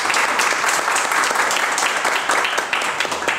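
Audience applause at a public education forum with the education secretary: dense, loud, sustained clapping from a crowd filling the whole moment with no talk.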